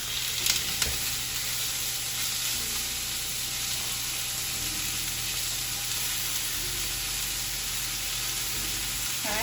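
A steak just flipped in a hot pan fills the air with a loud, dense, steady sizzle, a couple of brief clinks near the start, then an unbroken hiss.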